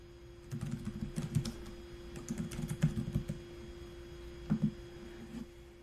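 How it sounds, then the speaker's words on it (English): Keys tapped on a computer keyboard while an address is entered, in uneven quick bursts with short pauses, close and fairly quiet over a steady low hum. "I'll type in the address for my site location"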